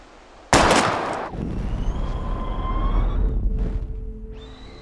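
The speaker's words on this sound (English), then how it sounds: "We're gonna shoot all these bottles without wasting a single bullet" A single loud gunshot bursts out in Life is Strange as bottles are shot at, followed by a ringing, echoing tail and faint glassy tones fading away.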